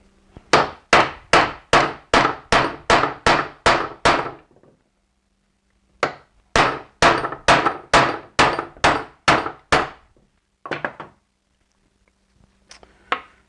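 A hammer strikes a large bolt used as a punch to drive out Toyota 4Runner U-joints: two fast runs of about nine sharp metallic blows each, separated by a pause, then a few scattered hits, loud and close.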